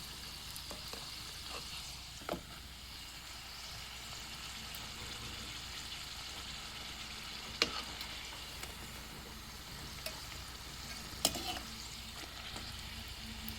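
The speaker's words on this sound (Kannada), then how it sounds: "ಚೆನ್ನಾಗಿ ಎಣ್ಣೆಲಿ ಮಾತ್ರ ಕರಿಬೇಕು ನೋಡಿರಿ" Mutton holige deep-frying in oil, a faint continuous bubbling sizzle with a few sharp clicks and taps of a utensil scattered through, close but quiet, with no talking.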